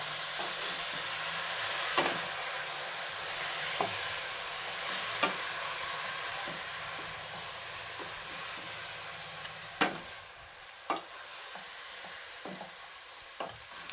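Leafy wild greens (cowpea leaves) stirred in hot oil, a faint steady sizzle with occasional soft scrapes and taps of a spatula, no talk.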